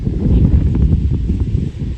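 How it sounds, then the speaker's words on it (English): Wind buffets the microphone in a constant low rumble, loud and close, with no other clear sounds over it. "You're going to have to excuse the wind, but we can't control nature."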